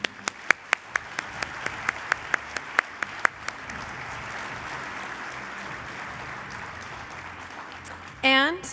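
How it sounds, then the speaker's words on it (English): Audience applause at an awards luncheon for chapter advisor nominees: a few sharp claps first, then steady broadband clapping from a sizable crowd lasting several seconds, ending with a brief burst of feedback-like sound. "Another round of applause for our nominees."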